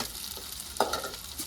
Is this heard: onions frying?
yes